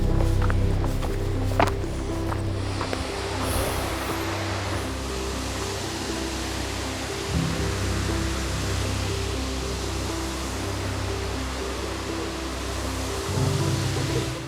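A waterfall at Silver Falls State Park, Oregon, produces a steady, broad rushing roar that fills the whole stretch without pause, with faint scuffs like footsteps now and then and no talking.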